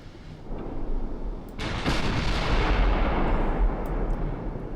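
Heavy naval gunfire from battleships and battlecruisers with guns up to 14-inch calibre in the warship game Ultimate Admiral: Dreadnoughts, a dense, sustained roar of booming salvos that swells after a sharp onset and rumbles on continuously.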